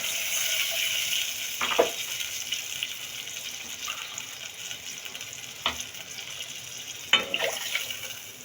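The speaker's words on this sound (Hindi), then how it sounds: "और फिर इसमें 2 कप हम डालेंगे पानी के।" Hot pan with sweet corn and chili flakes sizzles steadily as water goes in for noodles, a close frying hiss with a few sharp scraping clicks.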